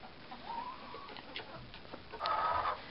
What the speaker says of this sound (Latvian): Kāpēc jūs viņas nosaucat pa klokstam? Nu kā jau visas klok, klok.